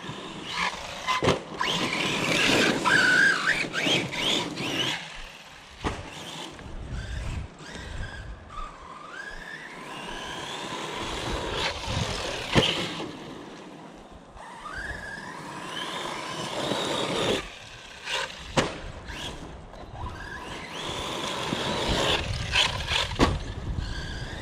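A Team Corally Kagama RC car driving at half throttle on an outdoor track, its motor whining and rising in repeated passes that swell and fade with distance, with tire squeals over roughly twenty seconds.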